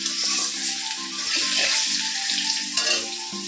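Potatoes frying in oil in a pan for a home-cooked fish curry, giving a continuous close sizzling hiss broken by regular light scraping knocks of stirring, with no voices.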